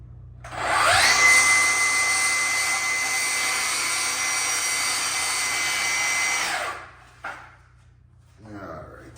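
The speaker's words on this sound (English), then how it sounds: "the Festool vac." A Festool shop vacuum starts up with a loud whine and runs steadily for several seconds beside a table saw, then shuts down and winds off, followed by a short burst of noise.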